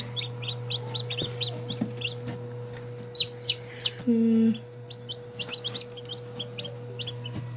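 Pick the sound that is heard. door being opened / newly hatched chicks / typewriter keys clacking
newly hatched chicks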